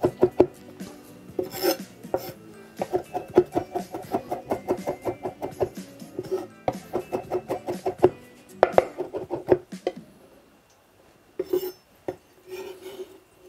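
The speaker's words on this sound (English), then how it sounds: "We don't need to chop this really fine." A knife chops garlic coarsely on a board in steady rapid strokes, close and crisp, then pauses before a few final cuts.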